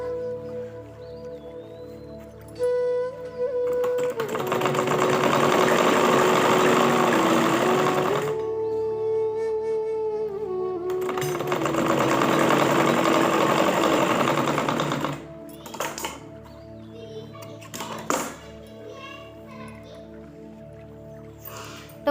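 An electric sewing machine stitches pillow cover fabric, running in two long whirring bursts of several seconds each, with short clicks and pauses between them, close and clear.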